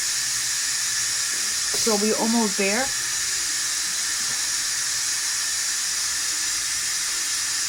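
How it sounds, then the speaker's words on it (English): Steam hisses steadily from a cooking pot as it is vented, a continuous broad hiss running throughout, with a brief stretch of speech partway through. "I'm just removing the steam out of the pot"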